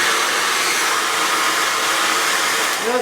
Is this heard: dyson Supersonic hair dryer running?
yes